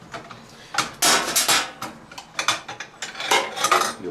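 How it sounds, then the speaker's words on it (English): Metal ratchet clicks and clinks on the bolts of a washer and dryer coin slide, a series of short bright rattling bursts close by, irregular and moderately loud with no talk. "you just stick your ratchet on there"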